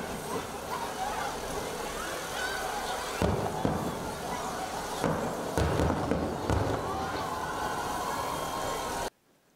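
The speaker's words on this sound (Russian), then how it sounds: "Завершилась программа ярким праздничным салютом." Festive salute fireworks over a town celebration, a dense continuous rumble of bursts and crackles with louder booms around the middle, sustained for about nine seconds before cutting off abruptly.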